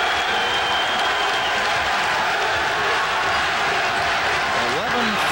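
A capacity crowd at a Rutgers men's basketball game against Syracuse in 2002 cheers and claps in a steady, loud roar, with an announcer talking over it.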